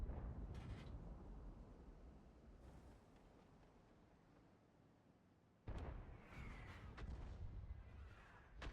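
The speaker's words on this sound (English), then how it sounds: "another shot by artillery here" Artillery fires in the World of Tanks video game, a deep rumbling boom that decays slowly and is followed by a second sharp blast.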